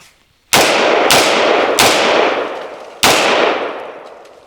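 Four sharp, loud AR-15 rifle shots from a Brownells BRN-15 upper fired outdoors, irregularly spaced, each with a long decaying echo tail.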